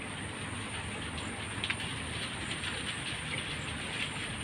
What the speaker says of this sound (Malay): Hujan ni dia masih berterusan turun sebab dia tak lebat